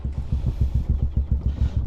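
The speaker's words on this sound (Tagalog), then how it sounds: "Pinapainit na lang natin yung makina ni Mia nang makapunta na tayo kina Boss Pete" A motorcycle engine warms up at idle nearby, thumping out a steady, even rhythm of low pulses with no revving and no voices.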